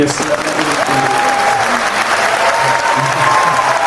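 Steady applause from a group of people, dense and fairly loud, continuing for about four seconds with a voice faintly audible over the clapping.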